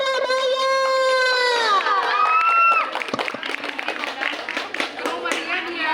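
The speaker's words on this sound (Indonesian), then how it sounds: "Beri tepuk tangan yang meriah untuk Surabaya." A live audience in Surabaya claps and cheers after a sustained sung or called-out voice, with the crowd noise building into a scattered burst of applause.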